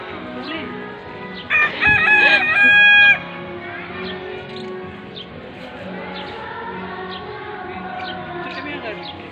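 A rooster crows once, loud and close, a long strained call over a background of quieter outdoor sounds and faint voices.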